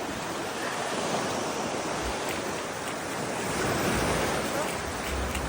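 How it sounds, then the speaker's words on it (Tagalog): Ocean waves wash onto a beach on Boracay island, a continuous broad roar of surf mixed with wind buffeting the microphone, swelling slightly partway through with no talking. "naglalakad sa tabing dagat, pinapakinggan ang alon"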